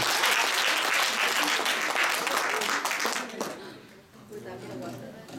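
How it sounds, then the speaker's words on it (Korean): Loud applause from an audience fills most of the clip, fading as a voice begins speaking at the end. "다시 한번 박수 부탁드립니다"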